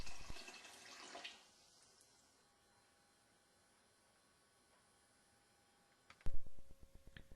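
Water runs into a brewing bucket of pea pod wine being topped up, a short rushing pour that stops, a long quiet pause, then another burst of running water with clunks, no talking.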